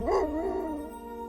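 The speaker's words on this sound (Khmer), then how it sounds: "ព្រានព្រៃ ដឹងពីចេតនារបស់ជូជក ហើយបានពន្លែងសត្វឆ្កែដ៏កាចសាហាវរបស់គាត់ទៅខាំជូជក" A fierce hunting dog in a Vessantara folk story lets out a single rising, wavering howl-like yelp that trails off, close and loud, with no other sounds.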